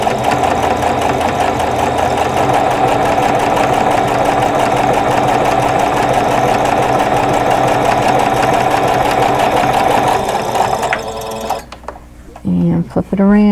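A sewing machine stitching a seam on a pinwheel quilt block runs with a fast, even mechanical whir close by for about ten seconds, then stops, followed by brief handling noises and a short burst of stitching.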